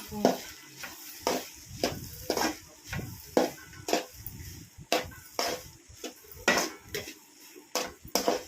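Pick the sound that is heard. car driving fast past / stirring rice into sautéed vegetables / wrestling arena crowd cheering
stirring rice into sautéed vegetables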